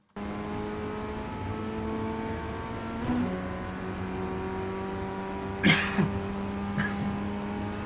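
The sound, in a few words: race car engine driving Laguna Seca, iRacing Ray FF1600 video game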